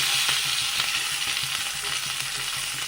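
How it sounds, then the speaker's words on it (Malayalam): Sliced onions and chopped curry leaves sizzle steadily in a hot pan for an egg curry, a dense continuous crackle with faint stirring taps, close and alone with no voices. "രണ്ട് സവാള കറിവേപ്പില അരിഞ്ഞത് അതിലേക്ക് ഇട്ട് കൊടുക്കാം"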